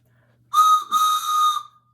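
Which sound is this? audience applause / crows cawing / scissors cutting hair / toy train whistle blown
toy train whistle blown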